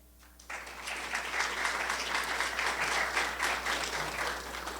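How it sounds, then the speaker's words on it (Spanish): Audience applause fills the hall at the opening of a scientific conference on endothelium in clinical pathologies, a dense, steady burst of many hands clapping that begins abruptly and holds at moderate loudness throughout. "Un fuerte aplauso para él."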